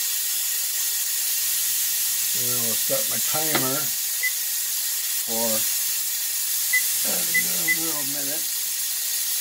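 Steam hisses steadily from a pressure canner as it pressurizes while pepper jelly is being canned, a constant loud sibilant jet running under a person's occasional talk.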